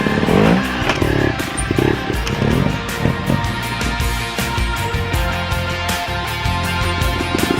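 A trial motorcycle engine idles and blips unevenly during slow balance training, loud and close, with short throttle bursts and some clattering.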